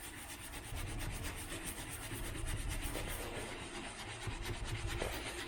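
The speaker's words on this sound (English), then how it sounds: "I'll just keep scrubbing it here with this brush" Stiff brush scrubbing phosphoric acid over rusty metal on a 1978 V8 Nova hot rod, a continuous close, steady rasping rub with no pauses and no voices.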